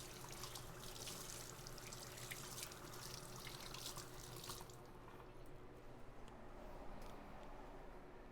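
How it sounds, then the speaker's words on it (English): Hot tap water runs steadily over a knife as butter is rinsed off in a kitchen sink, a constant close hiss and splash that grows slightly quieter and duller partway through. "Washing the butter off of the knife."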